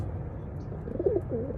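A wild pigeon gives a soft, low coo or two near the end, over a steady background hum with no talking.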